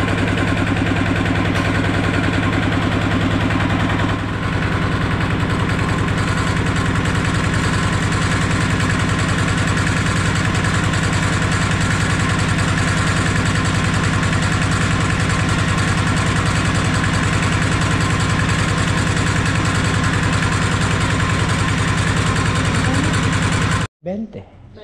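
A heavy-duty farm cultivator engine idles steadily with a loud, continuous low chugging hum that runs nearly unchanged for the whole stretch before cutting off abruptly. Voices may be talking over it.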